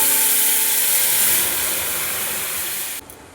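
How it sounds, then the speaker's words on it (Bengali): Cooked lentils poured into hot oil tempered with five-spice and a dried red chilli, a loud broad hissing sizzle that stays strong and then fades, dropping off abruptly near the end. "এবারে এই ফোড়নে ডাল ছকে নেব।"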